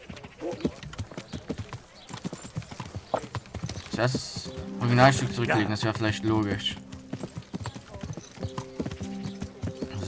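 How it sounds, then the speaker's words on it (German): Horse hooves clip-clop in a steady rhythm in the medieval video game Kingdom Come: Deliverance, with a whinny midway, while someone talks over the game sounds. "Pferd."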